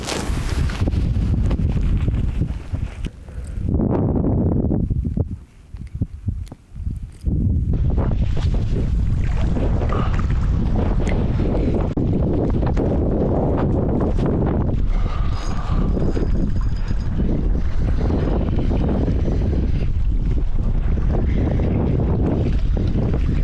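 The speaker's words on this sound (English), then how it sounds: "it's very windy and cold out here" Strong wind on a Nordic island shore, a steady loud roar buffeting the microphone throughout, with a brief lull near the middle before the gusts return and water noise underneath.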